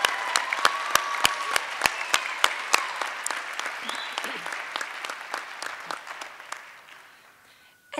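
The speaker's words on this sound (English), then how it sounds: "Let's give all 12 of our Students of the Year a huge round of applause for their accomplishments." A crowd applauds steadily at a school Student of the Year ceremony, with some louder individual claps standing out at first, then the clapping thins and fades away toward the end.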